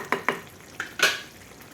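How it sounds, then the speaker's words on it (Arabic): Onion and tomato frying in a pan for a fish tagine, a few sharp spoon clatters and stirring scrapes against the pan over a faint sizzle, close and without talk. "ضروري يتقلى البصله مع مطيشه"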